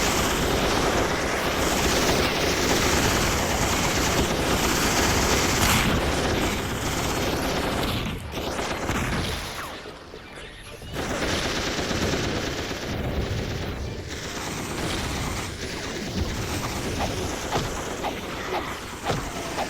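Rapid, sustained gunfire from defensive turrets in the Ratchet & Clank game, dense and continuous with a brief dip midway, loud and close with no talking.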